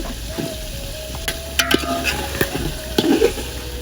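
Cut potatoes fry in a pan with a soft, continuous sizzle, broken by sharp scraping and clinking as a utensil stirs them now and then.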